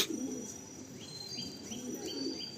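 A male pigeon offered for sale coos softly in a low, repeated murmur, faint and somewhat distant, with light chirps from other birds in the background and steady ambient noise.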